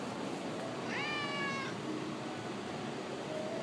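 A rescued cat, freshly pulled from a hot boiler room, gives one clear rising meow close by, set against a steady background hum with no talking.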